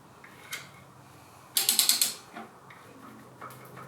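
A ratchet turns a BMW engine backwards during a teardown, giving a quick burst of about five sharp metallic clicks close up, with a few faint isolated clicks before and after in an otherwise quiet space.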